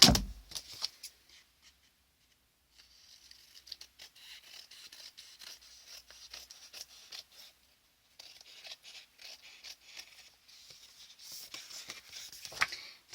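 Soft, quiet snipping and crisp rustling of scissors cutting paper, in short bursts with brief pauses between.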